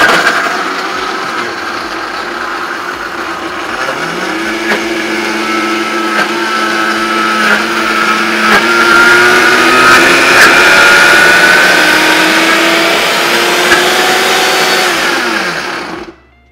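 A Vitamix blender churning protein ice cream, a loud, harsh motor whine that starts up, climbs and shifts pitch several times as the thick mixture catches, then cuts off abruptly at the end.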